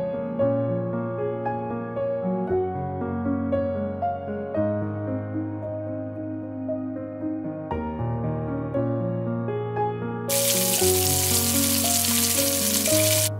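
Four ounces of bacon sizzles as it browns in a pan, a steady crackling hiss that swells louder near the end, heard under sustained music.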